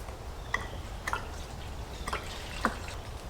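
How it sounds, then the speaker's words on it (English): Diesel fuel spills from a can and drips, giving a few soft, faint splats at irregular intervals over a quiet background. "Spilling diesel everywhere."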